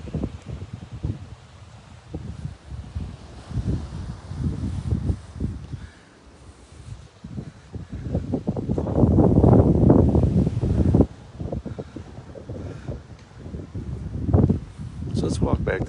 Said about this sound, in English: that wind, it's a little breezy.